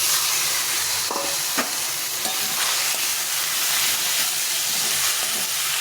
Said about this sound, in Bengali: এখন আমি এর মধ্যে মটরটা দিয়ে দেবো সিদ্ধ করে রেখেছিলাম এই মটরটা দিয়ে দিই